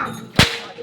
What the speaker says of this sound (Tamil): அதான் இந்த கோயில் மணி.